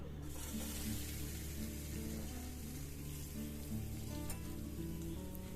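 Boiled potatoes tipped into a pan of frying spice masala, a steady sizzle with a low hum running underneath, and a few soft clinks from handling the pan. No one speaks.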